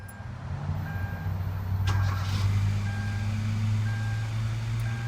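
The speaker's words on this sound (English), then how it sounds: "I'm going to go ahead and connect the battery back up, and we'll start it up and see how it works" A Kia Rio after spark plug replacement idles in a steady low rumble close by, with a short burst near the start as the engine catches and faint chiming tones over the hum.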